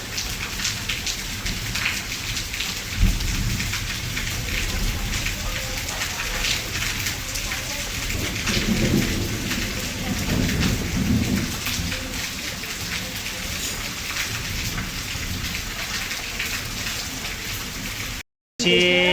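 Steady, dense rainfall patters on surfaces throughout, with faint low rumbles underneath and a few muffled voices partway through.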